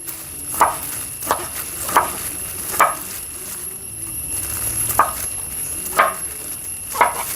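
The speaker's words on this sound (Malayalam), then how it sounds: "അപ്പം നമ്മുടെ കാട്ടുചേന തണ്ട് ക്ലീനിങ് കഴിഞ്ഞിട്ടുണ്ടോ നമ്മൾ കട്ട് ചെയ്യാം" A knife cuts through wild elephant foot yam (kattu chena) stems on a board, with sharp single chops spaced roughly a second apart over a quiet kitchen background.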